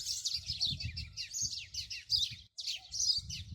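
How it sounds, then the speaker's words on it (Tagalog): Many small birds chirp and tweet continuously in a backyard in Abu Dhabi, a dense overlapping chorus of high calls close by, with faint low rumbling underneath and a brief pause near the end. "Birds! Birds! Birds! Birds!"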